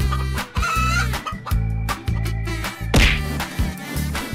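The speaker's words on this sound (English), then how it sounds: "Chicken." Chicken clucking sound effect from a giant wheeled toy vehicle, a run of short repeated clucks over a steady, busy music bed with a sharp squawk midway.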